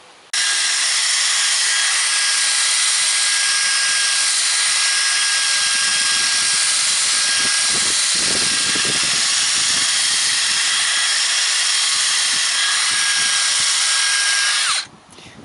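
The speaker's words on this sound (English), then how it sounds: "these wire wheels, the wires can sometimes fly out" A power tool spins a wire wheel against a rusty lawn tractor axle, making a loud, continuous high-pitched whine and scrubbing hiss that holds steady for about fourteen seconds before cutting off.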